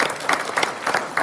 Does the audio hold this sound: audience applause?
yes